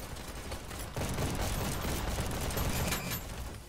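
A gun fires in a VR video game, a rapid, dense burst of shots running almost continuously and loud, with a brief dip before the firing resumes.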